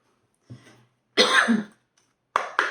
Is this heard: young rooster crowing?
no